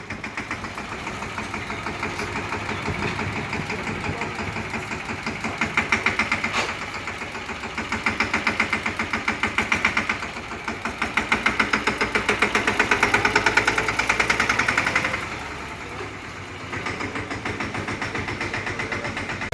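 The engine of a new Yuvraj tractor runs with a rhythmic, knocking chug, its level swelling and easing repeatedly as it idles and revs, with no talk.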